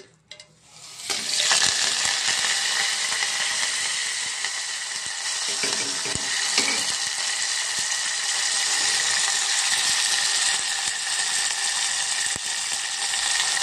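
Loud, steady sizzling of a tempering of dried red chillies, cumin, mustard seeds and onion frying in hot oil starts after a brief quiet moment and continues evenly throughout, with occasional faint scrapes.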